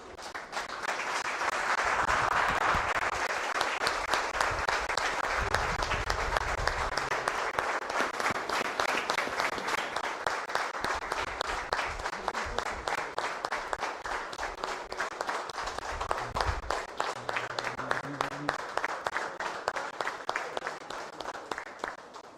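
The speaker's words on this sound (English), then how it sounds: "let's give a standing ovation to Vyasa sir once" A standing ovation at a superannuation ceremony for Dr. Vyasa Krishna Burugupalli, with dense, sustained clapping from a large indoor crowd that continues loud and even for over twenty seconds, and faint voices underneath.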